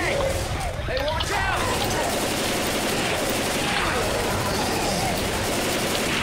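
Rapid automatic gunfire from the video game Left 4 Dead 2, aimed at the Tank, a dense continuous barrage filling the whole stretch at close range with faint voices mixed underneath.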